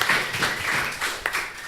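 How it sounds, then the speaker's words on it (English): Audience applause and clapping from a live crowd at a comedy-style show, a brief burst of mixed claps rising and easing with some cheering voices. "Big round of applause, please."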